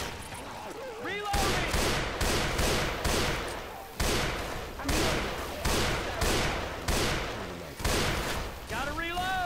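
Gunfire in Left 4 Dead 2 comes as loud, dense bursts of rapid shots, with repeated heavy blasts, while players call out over the shooting.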